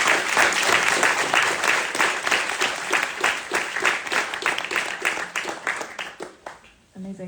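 Audience at a lecture event applauding after a presentation, a dense steady wash of clapping for about seven seconds that thins out near the end, with a voice briefly coming in at the close.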